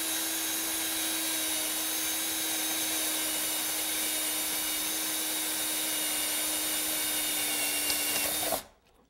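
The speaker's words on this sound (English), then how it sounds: "drill this hole in the center of this board" A power drill whines steadily at constant speed, bores through the center of a wooden board for several seconds, then cuts off abruptly.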